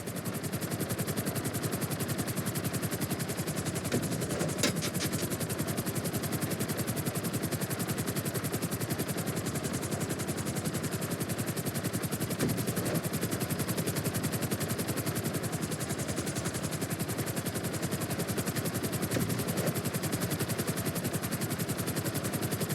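A helicopter in GTA V flight school hovers and flies with a continuous, close, throbbing rotor roar and engine whine that stays steady and loud throughout.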